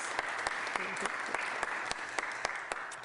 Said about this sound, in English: give that a huge round of applause